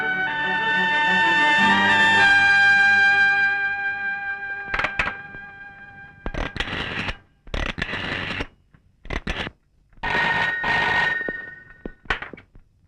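A telephone rings in repeated bursts while a call is placed to a police station, the first long ring loud and sustained, then several shorter rings separated by brief gaps, with no talking.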